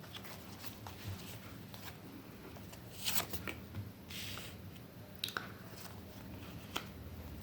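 A deck of tarot cards being shuffled close up during a reading, soft riffling and flicking with scattered sharp card snaps and pauses, quiet overall with no talking.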